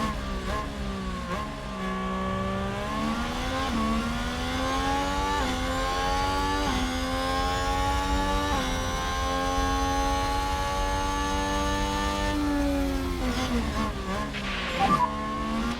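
F1 race car engines scream continuously in the F1 Manager 2022 game, whining harmonics sweeping up and down through gear changes, loud and close with no talking.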